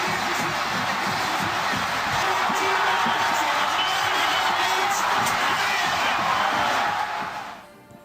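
A stadium crowd of over 58,000 football fans roars in a dense, sustained wall of cheering around a final play, holding steady before falling away sharply near the end.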